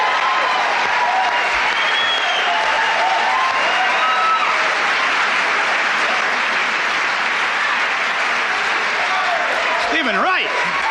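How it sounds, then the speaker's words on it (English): A comedy club crowd in Boston gives a loud, sustained round of applause with whoops and cheers for comedian Barry Crimmins in 1986, dense and continuous, with a voice rising over it near the end. "Let's have a nice round of applause for Mr."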